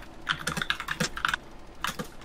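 A computer keyboard clicks close by in quick, irregular bursts of keystrokes during typing, with brief pauses between runs.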